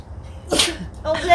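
One sharp sneeze bursts out close by in a quiet indoor space, followed a moment later by a brief breathy voice.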